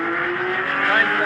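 A 2018 Porsche 911 GT3 with a manual gearbox screams at high revs, a tense, rising engine wail heard from inside the car, with faint talk mixed in.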